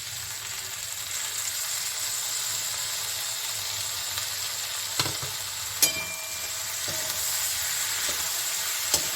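A spice paste sizzles in a pan with spring onion stalks, a steady moderate frying hiss with a few sharp utensil clicks and scrapes.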